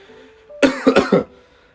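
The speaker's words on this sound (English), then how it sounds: "Bless you after a cough." A single cough bursts out in a few quick, loud, close hacks, with quiet room background before and after.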